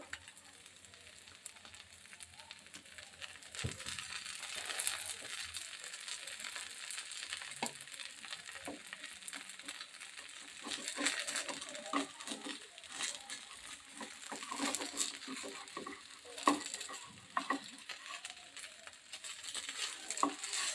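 A cabbage and carrot paratha cooks pancake-style in oil on a pan, giving a soft, continuous low sizzle with scattered crackles and light scraping, fairly faint and without talking.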